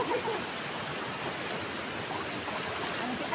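Flowing water current, a steady broadband rushing wash heard close and continuous with no pauses.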